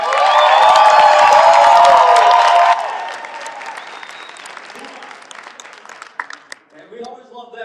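Audience at a graduation ceremony breaks into loud, dense applause with some cheering, which then fades into scattered claps and voices as a speaker resumes.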